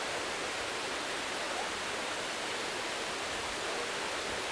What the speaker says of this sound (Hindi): ये दूसरा वाटरफॉल है यहाँ का।